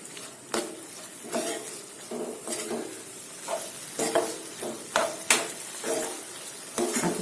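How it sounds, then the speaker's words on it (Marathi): Chana dal and spinach sabzi is stirred in a pan. Rhythmic spoon scrapes and knocks repeat about every second over a light sizzle, with no talking. "याला छान मिक्स करून बघा किती छान रंग आला आहे"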